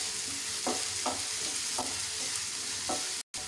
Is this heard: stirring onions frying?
yes